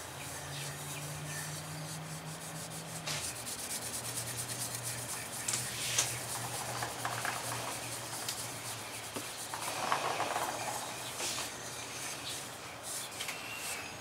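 A finger rubs Hampshire Sheen friction polish briskly onto a burnt guava wood handle of a firesteel striker, giving a steady close scrubbing hiss that runs throughout with small bumps and squeaks, no speech.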